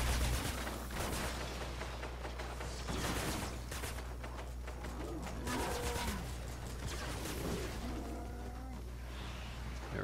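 Rapid, continuous automatic fire from the Mercury LMG in Fortnite Save the World, a dense, droning stream of shots with tonal, laser-like ringing that runs steadily for about ten seconds.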